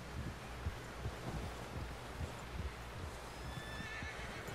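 A horse in the western game Red Dead Redemption 2 whinnies faintly while its hooves clip-clop irregularly over a steady wind-like background, low in level and without talk.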